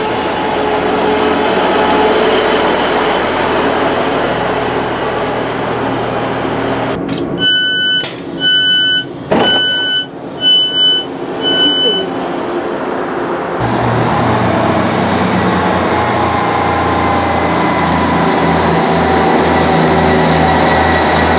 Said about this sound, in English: So our train is arriving now to pick us up and take us to Hessle